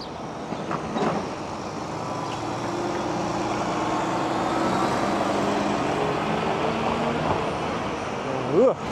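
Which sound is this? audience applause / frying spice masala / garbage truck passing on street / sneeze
garbage truck passing on street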